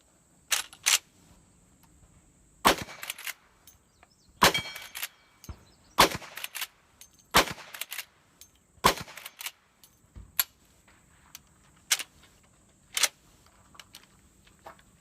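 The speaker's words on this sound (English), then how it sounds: "I put 5 more rounds of Arms Core 357 Magnum in it. Let's go ahead and ring that action steel target." Gunshots from a 2010 Marlin Model 1894 lever-action rifle firing .357 Magnum rounds at an action steel target on an outdoor range, with about ten sharp reports spaced irregularly, some with quick metallic rings and lever clatter between.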